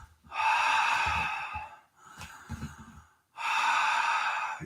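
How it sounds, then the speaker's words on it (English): Breath during a Bikram-style yoga class, two long breathy exhales close to the microphone separated by a softer, shorter breath, with no speech. "Exhale."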